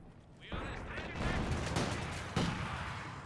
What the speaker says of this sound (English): PTRS firing away.